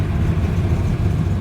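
Engine of a 1968 Hemi Dart GTS muscle car running loud and close, a steady heavy rumble with deep low-end throb and no talk over it.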